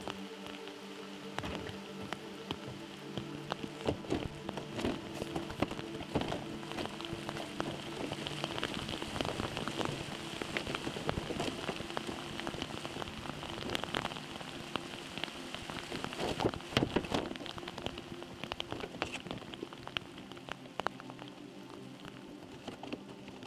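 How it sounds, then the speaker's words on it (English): Rain patters steadily on the roofing sheets of a small 8x6 shed under construction, dense irregular drops and sharper ticks close by for over twenty seconds, with no voices. "the rain was coming in pretty quick"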